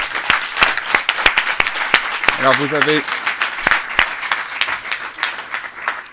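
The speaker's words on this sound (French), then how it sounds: "Je propose qu'on les applaudisse tous" A conference audience applauds the speakers at the close of a low-carbon finance talk, a dense run of many hands clapping that continues with someone speaking over it and a brief tonal sound partway through.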